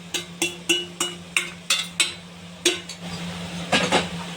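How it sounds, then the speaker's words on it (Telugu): Drumsticks being stirred into tamarind-tomato pulp in a pan, with a series of sharp, regular clinks and scrapes of a utensil against the pan, about one every third of a second, then a looser scraping stir. "ఆ గుజ్జుని వేసి బాగా మిక్స్ అయ్యేట్లు ఈ మునక్కాడలు కలుపుకోవాలి"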